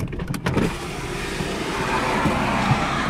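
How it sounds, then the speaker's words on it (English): A 2001 Dodge Stratus's electric power windows roll down with a steady motor whir that runs the whole time under broad car noise, close and fairly loud. "I'm gonna roll the windows down to where you can hear it's not even really squeaking no more"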